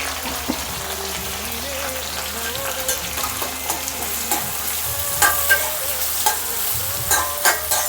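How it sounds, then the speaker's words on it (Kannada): Chopped onions with green chillies fry in oil for uppittu, a loud close sizzle under repeated spatula scrapes and stirring knocks, steady with slightly busier stirring toward the end and no voices. "ಈರುಳ್ಳಿ ಸ್ವಲ್ಪ ಕೆಂಪಾಗೋವರೆಗೂ ಇದರಲ್ಲಿ ಎಣ್ಣೆಯಲ್ಲೇ ಫ್ರೈ ಮಾಡ್ಕೋಬೇಕು"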